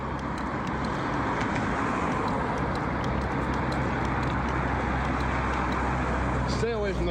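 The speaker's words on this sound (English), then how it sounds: "Stay away from those cars." Steady road traffic with cars passing along a street, a continuous broadband rumble close by, with people talking over it.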